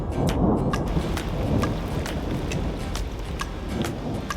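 Steady heavy rain pours on a rainy night with thunder rumbling underneath and sharp drips or cracks scattered throughout, loud and continuous.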